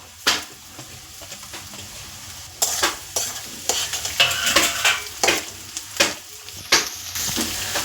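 Vegetables and chopped capsicum fry in a wok for mixed fried rice, a constant sizzle punctuated by repeated loud scraping stirs and metallic clanks of the spatula against the pan.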